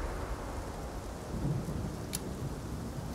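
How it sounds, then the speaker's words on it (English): Heavy rain and rolling thunder fill a dark night scene in the video game Rise of the Ronin, set in Asakusa, with a constant downpour hiss under a low rumbling thunder and no talk. "Oh, but it doesn't stop the rain."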